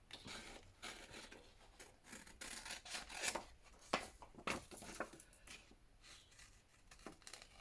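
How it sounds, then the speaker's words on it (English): Scissors cutting paper for a journal pocket, quiet irregular snips and rustling crinkles close up, with no voices. "Just do a rough cut to get it out, and then we can trim it up."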